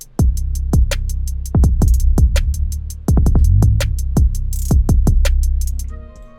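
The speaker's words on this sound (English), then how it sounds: "So the drum pattern sounds like this." A hip-hop beat's drum pattern of crisp hi-hats and snappy hits over deep, slightly distorted 808 bass slides, loud and steady with no talking, looping for several bars before a short tonal tail at the end.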